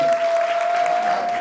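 Audience applause fills a hall at a public education event, a steady wash of clapping at moderate loudness that continues evenly for a moment without speech.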